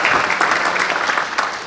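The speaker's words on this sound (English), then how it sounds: "let's give them all a big round of applause" An audience at a speaker series event gives a brief burst of applause, a dense, close wash of clapping with no talking.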